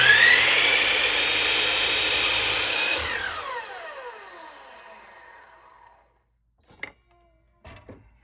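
A power saw cuts 1x4 pine end pieces to length, a loud sustained whine for about three seconds that winds down and fades, followed by a few faint knocks of wood being handled.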